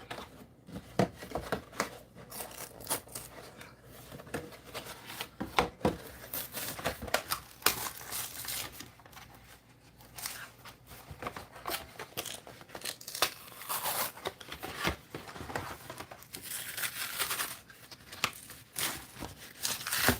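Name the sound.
cutting up cardboard cereal boxes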